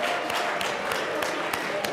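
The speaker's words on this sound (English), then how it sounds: "She loves when people applaud" Applause fills the Colorado House of Representatives legislative chamber: a broad, continuous patter of many hands, steady and fairly loud, with a few sharper claps standing out and faint voices underneath.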